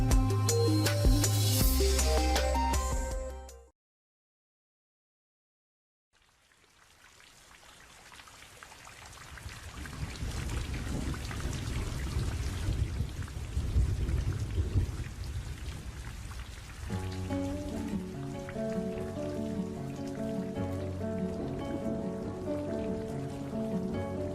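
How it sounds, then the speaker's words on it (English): Heavy rain pours steadily with low rumbling thunder, close and continuous, after a brief stretch of music and a pause of silence. "Listen to the pouring rain, listen to it pour."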